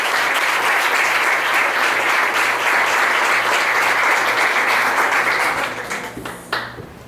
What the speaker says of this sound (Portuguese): Pode aplaudir ao Senhor mais uma vez